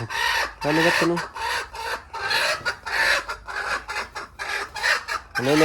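A chicken clucks nearby in quick, choppy bursts of loud squawks and rasping calls, separated by short pauses.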